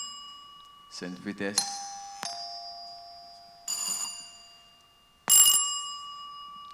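Quiz answer bells pressed by school contestants at a cybersecurity challenge, several bright metallic rings with long decaying tones, struck one at a time with pauses between, and a voice briefly speaks before them.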